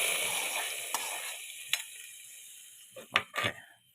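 A fenugreek tempering is poured into a tamarind curry and sizzles loudly at first, then fades to a soft crackle, with a few sharp clinks of a utensil near the end.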